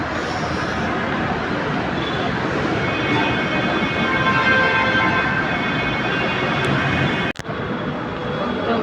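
A Kochi metro train near the Lulu Mall runs on its elevated track, giving a steady loud rumble with faint tonal whine and a sharp clack near the end.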